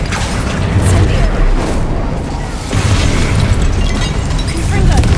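The Incendio fire spell is cast in the Hogwarts Legacy video game with loud, continuous whooshing fiery blasts and bursts, mixed with rumbling crashes. Voices shout over the effects.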